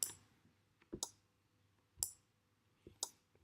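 An Arduino-driven relay switches on and off, giving four sharp, evenly spaced clicks about a second apart against a quiet background.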